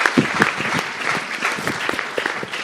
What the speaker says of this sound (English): Please give Rod and all my guests a nice round of applause